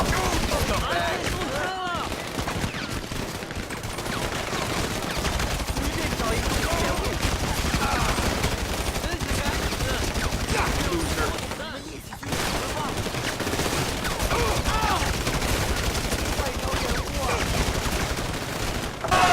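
Rapid video game gunfire from a GTA V police special operations mod, dense overlapping automatic bursts running nearly nonstop, loud and close, with a brief lull partway through.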